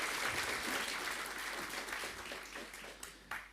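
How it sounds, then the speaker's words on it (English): Audience applause following a start-up pitch at a space resources conference, a steady wash of clapping that gradually thins out, with a last burst of claps near the end. "Big applause."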